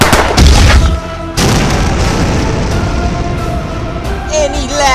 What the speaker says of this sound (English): Activating power gun.